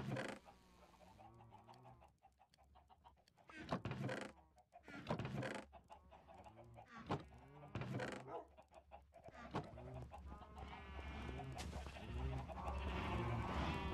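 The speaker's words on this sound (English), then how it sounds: "That's a lot of cows and a lot of chickens." Cows and chickens in the video game Minecraft, a busy chorus of clucking and bleating moos scattered across the scene, some near and some farther off, with a voice speaking in the middle.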